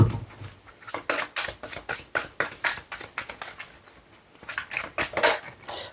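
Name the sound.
cards being handled and laid out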